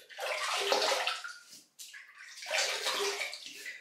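Water splashes and sloshes as a face is wetted at a sink before a wet shave, two close bursts of rushing water with a brief pause between them, no voices.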